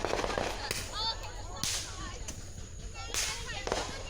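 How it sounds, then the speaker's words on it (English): Fourth of July fireworks going off, several sharp cracking bangs spaced a second or so apart with whistling trails between them, heard at moderate distance with voices mixed in. "I forgot about that certain firework that happened."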